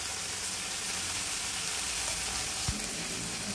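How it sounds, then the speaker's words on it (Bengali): Steady hiss and crackle of drained leafy greens frying in hot oil, a constant close sizzle with a faint stir or scrape near the end. "জল ঝরিয়ে এবার আমি তেলের মধ্যে দিয়ে দেবো"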